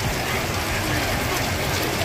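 Rain falls steadily at a night market in Nha Trang, a dense, even hiss with no breaks and no distinct drops, fairly loud and close throughout.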